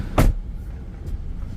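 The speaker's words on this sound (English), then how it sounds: "Very quiet little 2-litre turbo." A 2021 LDV G10 van's 2-litre turbo engine turns over with a short burst, then settles into a quiet, steady idle heard close by.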